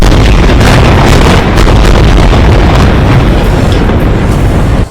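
Missiles strike a building in Gaza, producing a massive, sustained roaring blast, loud and broadband, that fills the whole stretch before cutting off abruptly.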